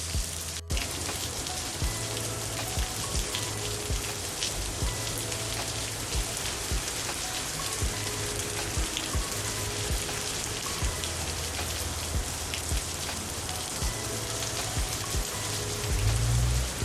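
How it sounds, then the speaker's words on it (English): Steady rain falls and patters on surfaces nearby, a dense even hiss that carries on alone with no talking, briefly heavier near the end. "hopefully this rain will subside in a few minutes."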